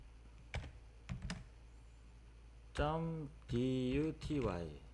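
A few sparse keystrokes click on a computer keyboard while a command is typed into a MicroPython editor for an ESP32 fan setup, followed by a person talking.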